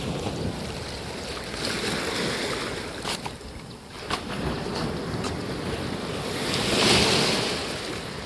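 Ocean waves wash against coastal cliffs on an Indonesian beach, a continuous roaring surf with wind buffeting the microphone and a surge swelling near the end, no talking.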